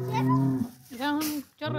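A bull in rut bellows on a neighbourhood street, three long, loud, close groaning calls with short breaks between them.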